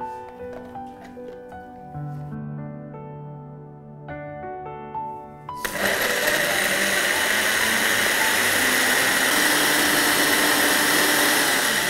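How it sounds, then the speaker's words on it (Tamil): Soft music plays, then a mixer grinder abruptly starts at close range, grinding chutney into a fine paste, a loud continuous high-pitched whirring grind that lasts to the end. "ஒரு ஃபைன் பேஸ்ட் ஒரு சட்னி மாதிரி கிரைண்ட் பண்ணிக்கலாம்"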